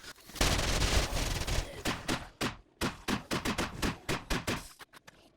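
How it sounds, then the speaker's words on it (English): A shotgun fires in the video game 7 Days to Die, a steady series of loud, punchy blasts repeating about every third of a second, following an opening burst of heavy gunfire. "A shotgun's really good."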